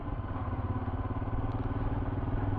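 Royal Enfield Himalayan motorcycle engine while riding: a steady, close, loud mid-pitched engine drone with a fast pulsing beat, no voices.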